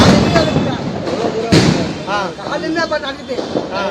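Loud bangs and crackling bursts of firecrackers thrown into a school going off nearby, mixed with voices shouting and talking over the noise.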